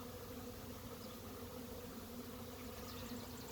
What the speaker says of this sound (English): And there's a lot of bees here.